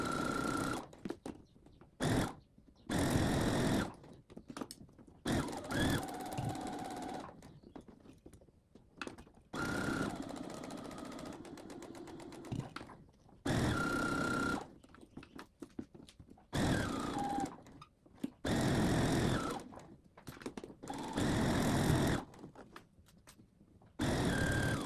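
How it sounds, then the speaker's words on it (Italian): A sewing machine stitches a seam around a fabric goose plush, starting and stopping in repeated bursts of loud, close whirring separated by short pauses. "fate questa cucitura su tutto il contorno a 1 centimetro dal bordo"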